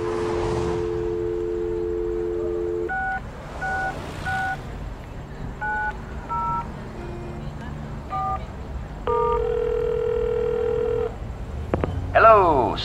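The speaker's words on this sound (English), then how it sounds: "You pick up the phone, and to your delight, you get a dial tone." Electronic telephone sounds in the Leisure Suit Larry video game: a steady dial tone, then a series of short paired dialing beeps, a longer tone and a falling sweep at the end, with faint background hum.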